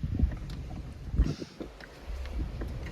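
Strong wind gusts batter the microphone, producing deep rumbling buffets that swell and ease with a steady rushing roar underneath.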